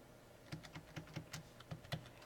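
Computer keyboard typing input into a program: a quick, even run of about ten soft keystrokes, faint and close, with no talking.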